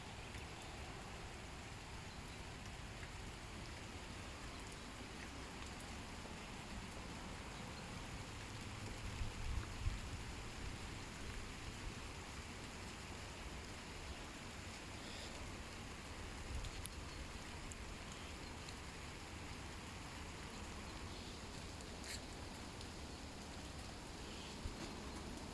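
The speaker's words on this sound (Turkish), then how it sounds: "Sel değirmeninde yağmur." Steady rain falls around a flood-powered watermill in Giresun in August, a continuous soft hiss of drops that holds evenly throughout with no voices.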